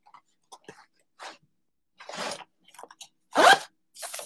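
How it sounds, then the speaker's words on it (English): A zipper on a new bag is worked in short bursts, quick ticking pulls then a few longer, louder zips, close up with quiet gaps between strokes. "the back of this one has the zipper"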